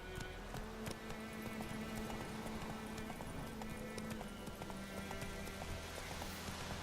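Roach, the horse in The Witcher 3 video game, gallops in a steady rapid clip-clop of hooves that runs throughout, fairly close and continuous, with no talking over it.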